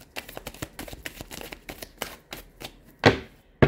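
Tarot cards being shuffled by hand, a rapid run of crisp riffling flicks and slaps close up, ending in two sharper louder snaps, with no talking.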